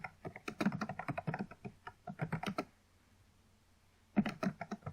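Rapid, close clicking of keys on a computer keyboard, typed in two bursts separated by a pause of about a second and a half, quiet and with no voices.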